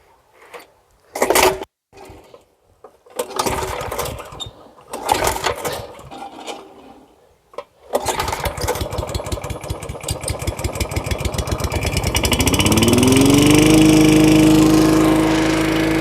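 A fuel-leaking lawn mower engine being renovated coughs through several short, failed pull starts, then catches and runs with a fast, steady putter that rises in pitch as it revs up, loud and close.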